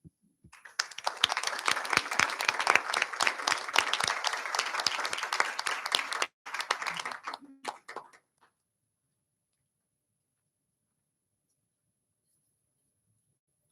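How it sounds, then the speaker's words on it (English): An audience at a board of education ceremony honoring retiring teachers gives dense, steady applause for several seconds. It tapers off with a few last claps and ends in silence. "how about one more round of applause for all of our retirees and what they did for our kids and our community"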